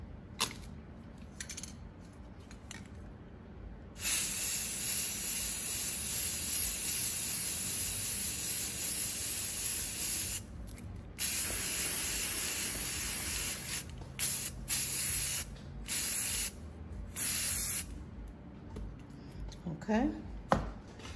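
Rust-Oleum satin magenta spray paint hissing from an aerosol can onto a glass, in long steady bursts separated by short pauses, fairly close and moderately loud.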